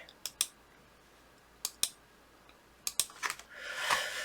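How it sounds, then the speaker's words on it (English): Scissors snip through knitting yarn in a few sharp, close clicks spread across the moment, followed by a soft rustle of handling at the end; no voices. "I'm going to cut my yarn off"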